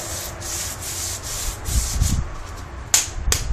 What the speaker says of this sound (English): This is a very coarse sanding.